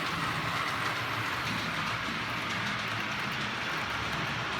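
Two model trains running around a model railway layout, a steady close whirring and rolling rumble with faint rail clicks continuing throughout, no voices.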